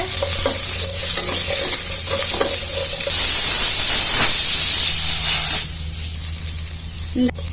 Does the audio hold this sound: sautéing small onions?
yes